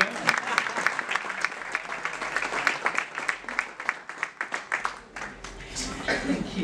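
Sustained audience clapping welcoming someone speaker at a CEO event; many hands clap in a dense, fairly even stream with scattered louder claps, slightly distant, tapering off toward the end.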